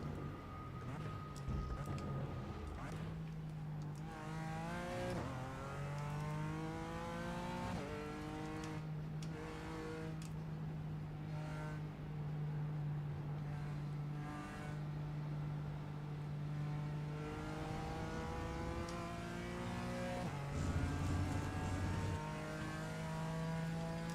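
A BMW M4 GT4 race car engine at Road America in iRacing drones loudly and steadily, rising through repeated upshifts and dropping on lifts and braking, with no break in the engine sound across the lap.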